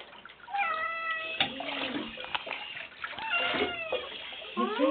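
A wet cat meows repeatedly during her second bath, drawn-out rising and falling cries over splashing water, with people talking softly in between.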